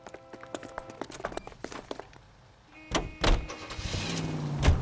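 Car in the L.A. Noire video game starting up and pulling away, with door and footstep clatter first, then a louder engine surge and rumble building near the end.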